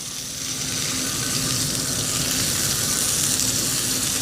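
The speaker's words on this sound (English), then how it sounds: "Oh, it's crisping up nice. Yeah. That's gonna be one big burger" A burger patty and onion fry in a pan over a campfire outdoors, giving a steady, close broadband sizzle with a faint hum running underneath and no talking.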